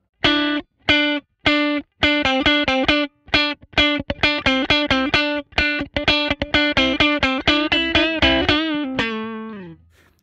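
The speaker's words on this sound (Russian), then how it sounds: "Как слышите, даже на хамбакерах здесь присутствует вот такое как бы стекло немножко." Fender Jaguar electric guitar with humbucker pickups, played clean with a bright, glassy attack: short plucked chords and single notes, first in a few spaced hits, then a steady rhythmic run, ending on a ringing, fading chord.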